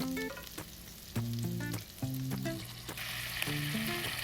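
Lemongrass and cherry tomatoes saute in a pan for linguine with clams, a soft steady sizzle punctuated by sharp clinks and scrapes of a utensil, close and fairly quiet.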